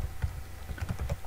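Quick, light keystrokes of code being typed on a computer keyboard come in a brief irregular burst of soft, close clicks.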